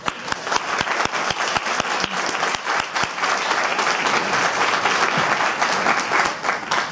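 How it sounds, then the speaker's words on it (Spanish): Loud, sustained applause from an audience at a lecture on poltergeist houses in early 20th-century Spain, a dense wash of many hands clapping with sharper claps standing out, steady for the whole stretch with no voices. "quiero pedir un fortísimo aplauso para mi compañero Juan José Sánchez Oro"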